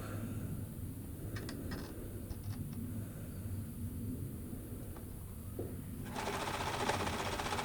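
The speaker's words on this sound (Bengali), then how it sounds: "এবার আমি সেলাইটা করে দেব।" A sewing machine runs steadily, stitching an embroidery design onto the cuff hem of salwar fabric. The hum is continuous and close, with no talking, and grows slightly brighter and louder near the end.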